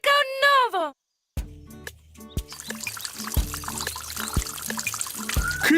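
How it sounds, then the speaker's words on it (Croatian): Cartoon water pouring and raining onto an apple tree: a trickling, splashing stream with bright tonal pings and a bird-like chirp, preceded and followed by brief animated voices. "Voda! Puno vode!"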